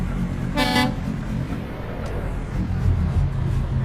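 A V8 truck engine in Euro Truck Simulator 2 rumbles loudly while standing still, a deep steady idle that runs throughout, with a short horn toot near the start.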